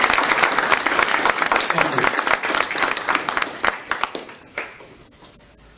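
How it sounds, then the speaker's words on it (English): Audience at a school district foundation superintendents' breakfast breaks into dense applause that holds steady and then thins out into scattered final claps, and someone briefly speaks near the end. "How about a nice round of applause?"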